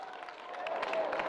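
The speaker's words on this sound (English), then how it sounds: "Round of applause." An audience at a freediving stage panel discussion breaks into a short burst of steady clapping, moderately loud and spread across the room, with no voices over it.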